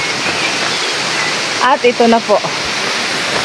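Broad, steady rush of Kafarhilda Falls pouring down, filling the whole clip loud and close, with a brief spoken remark partway through.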